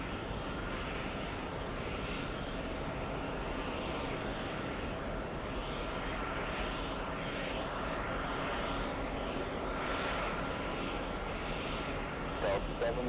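An airliner arrives at runway 22 left at a busy airport, its jet engines giving a broad, steady distant roar that holds at an even level throughout.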